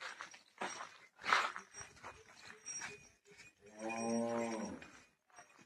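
Cows at an ashram cowshed in Inchura low on a morning, several deep, drawn-out moos rising and falling one after another, with the last call long and resonant and close by.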